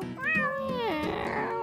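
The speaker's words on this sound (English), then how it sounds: "Ali took Meow the cat and Fuzzy the dog out on a bike ride" A cartoon cat gives one drawn-out meow that rises and then slides down in pitch, close and clear with no talking.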